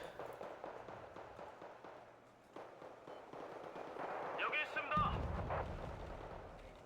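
Tank cannon and gunfire in a tank video game come as repeated rapid booms and cracks over a busy battle soundscape, with a heavier blast near the end, while a voice talks over the action.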